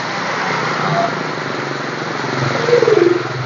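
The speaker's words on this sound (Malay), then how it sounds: "Skuter banyak ni, skuter." Steady buzzing of small motor scooters in street traffic, a continuous engine drone that swells briefly as one passes nearby.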